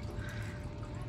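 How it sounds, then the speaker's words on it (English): Water from an outdoor 40-gallon tank's filter splashes steadily back into the tank, a continuous faint pouring sound. "It filters into here, falls into here, just so we can have some extra water flow and extra filtration in there."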